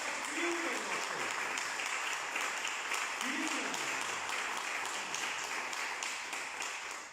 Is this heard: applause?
yes